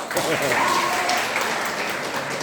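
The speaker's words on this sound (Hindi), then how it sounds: "इसके लिए हमारी तालियां बज रही है" Audience applause at a Santali language day event at Mankar College, steady dense clapping throughout, with a voice talking over it.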